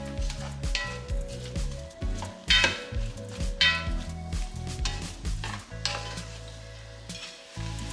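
Two sliced onions sizzling and frying in a pot after browned brisket, a steady close crackle with stirring scrapes and light clinks throughout.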